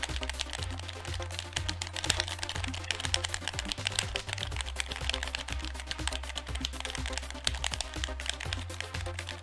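Rapid keyboard typing clicks from a visual novel game run steadily throughout, layered over a looping background music track with a thumping bass line.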